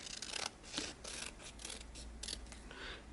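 Scissors snipping through paper book pages, a series of short crisp cuts and rustles at close range, with no talking.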